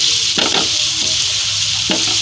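Carrots roasting and being stirred in desi ghee for gajar halwa, with a steady close sizzle and a few scraping stirs of the spoon through the pan.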